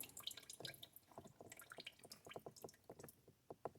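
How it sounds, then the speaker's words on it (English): Water trickles and drips from a tap into a sink pool, a faint, close, irregular patter of drops and splashes without talk. "Let's fill that up a little bit."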